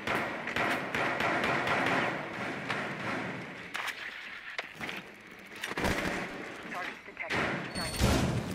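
Gunfire rattles through a tactical shooter video game during a hostage-rescue round, with dense bursts and sharp thuds repeating over several seconds, mixed with background voices and game effects.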